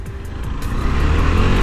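A KTM 390 Adventure motorcycle pulls away, its engine rumbling loudly and rising steadily as it moves off, close by and with no speech.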